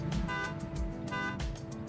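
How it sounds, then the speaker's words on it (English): A truck horn in a video game, stuck from a shorted horn switch, honks in repeated bursts over steady engine noise. "I hear honking."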